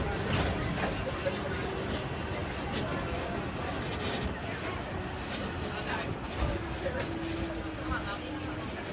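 Steady rumble of a moving Disneyland tram at night, from Downtown Disney to Mickey & Friends, with wind and rolling noise throughout, a recorded safety announcement voice speaking over it.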